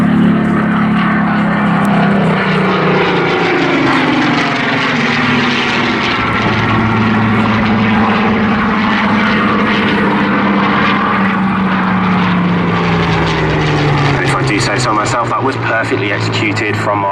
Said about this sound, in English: On the right hand side we have Suggs lining the Hurricane up.